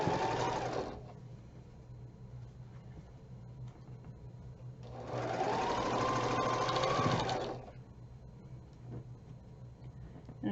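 A sewing machine stitches quilt block quadrants in two bursts of steady whirring: one short run at the start and a longer run in the middle, with quiet pauses between and no talking.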